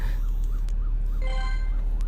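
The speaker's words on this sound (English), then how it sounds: "I think I hear an ambulance." A wailing emergency vehicle siren sweeps up and down repeatedly, steady and fairly loud over a constant low drone of background noise, with no talking.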